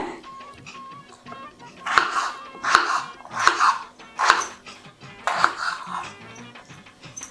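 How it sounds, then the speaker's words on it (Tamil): Potatoes being cut on a board for potato sambar, with a series of sharp knife chops and clinks, some spaced and some in quick clusters, close and fairly loud in a quiet kitchen. "இப்போ ஃபர்ஸ்ட் வந்து உருளைக்கிழங்கு கட் பண்ணிக்கிறேன்"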